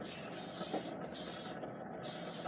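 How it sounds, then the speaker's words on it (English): Three steady hissing bursts of hairspray onto the underside of a fur felt fedora hat, each lasting under a second, close by with short pauses between. "Give it a little spray on the underside."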